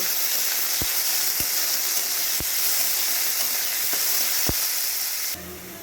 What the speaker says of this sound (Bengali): ভালো করে নাড়াচাড়া করে হালকা হালকা করে একটু ভেজে নেব